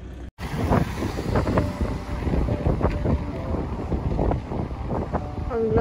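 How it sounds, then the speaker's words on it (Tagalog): Steady wind rumbles against the microphone after a brief dropout at the start, a dense low roar with scattered knocks and movement noise. "Hindi ko alam kung naririnig din yung hangin, pero mahangin guys."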